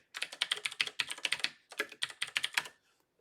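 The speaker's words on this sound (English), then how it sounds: "I'm going to type ping." Quick keystrokes on a computer keyboard, close and crisp, in two short runs with a brief pause between them and no talk.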